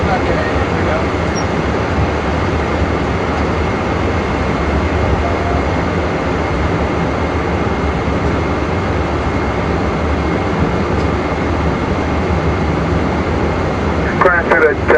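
A Boeing 777 jet engine lights off during start, a loud continuous broadband roar that holds steady throughout, with brief clicks near the end.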